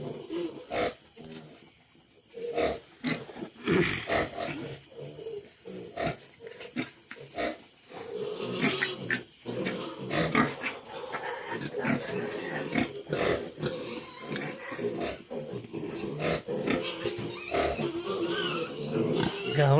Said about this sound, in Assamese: গাহৰি